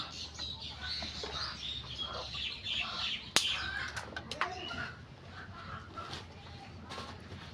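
Soft hen clucks from a chicken dust bathing, with scattered bird chirps over a steady low rumble and a sharp rustle or flap partway through.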